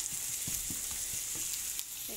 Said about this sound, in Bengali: টমেটো চাটনি বানাবো, এই জন্য আমি পেঁয়াজটা ভেজে নিতেছি তেলের মধ্যে।